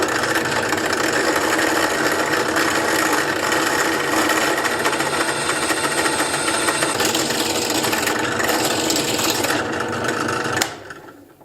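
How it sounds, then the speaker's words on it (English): Power drill boring holes through a metal go-kart sprocket, a loud steady high-pitched whine grinding continuously for about ten seconds before cutting off abruptly. "I'm going to drill 4 holes."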